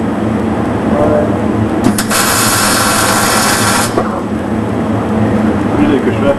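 Arc welding in a workshop: a steady, loud broadband crackle and hiss starts abruptly, runs for about two seconds and cuts off, over a constant background hum.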